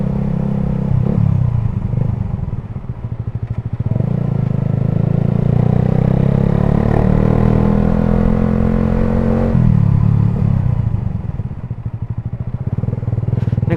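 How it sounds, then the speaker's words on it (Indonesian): A Suzuki GSX motorcycle fitted with a WRX aftermarket exhaust is ridden close by, its deep, soft exhaust burble rising and falling as the throttle is eased and pulled through a couple of surges. "Gimana ya menurut kalian suara knalpotnya?"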